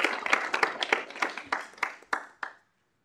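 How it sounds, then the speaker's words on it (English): Student meeting audience at a university student involvement gathering giving a round of applause, thin scattered clapping that starts full, thins out into a few separate claps, then stops. "So I think that deserves a round of applause."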